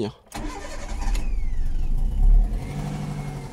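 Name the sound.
Toyota Yaris car engine starting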